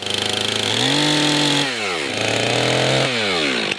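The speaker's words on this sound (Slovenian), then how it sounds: "Mi ponavadi z motorno žago to označimo." A chainsaw revs hard against a tree trunk while marking a cut for felling, its loud engine whine rising and dropping in pitch across several throttle bursts, close and alone.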